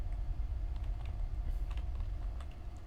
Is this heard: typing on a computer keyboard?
yes